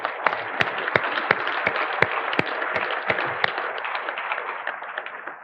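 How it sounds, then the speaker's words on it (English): An audience at a security conference's closing ceremony claps in a brief round of applause, dense clapping with a few sharp louder claps standing out, gradually fading toward the end. "we want to give them another round of applause"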